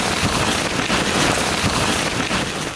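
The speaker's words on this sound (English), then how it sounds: "The wind just picked up like crazy. It's raining." Steady rain and gusting wind outdoors in the Utah desert among rock fins, a dense broadband wash filling the whole moment with no voices.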